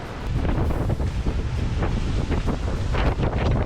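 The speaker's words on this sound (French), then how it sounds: "La vache, il y a des belles déferlantes." Breaking waves and strong wind at sea aboard a sailboat between the Bahamas and Jamaica, a steady loud roar of gusting wind over the mic with surging water throughout.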